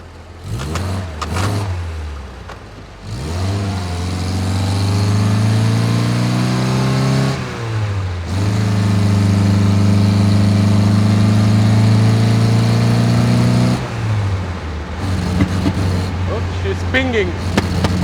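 A 1964 Triumph TR4 engine runs close by, revving up in long rising pulls and settling back between them, with a few short blips at the start and end and speech underneath.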